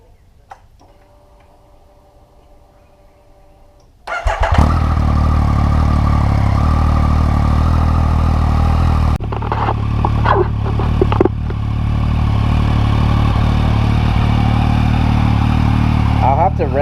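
Yamaha FZ09/MT09 motorcycle with stock exhaust starting up after a faint ticking, then idling loudly and steadily up close, with a brief dip and a rise in the engine note midway.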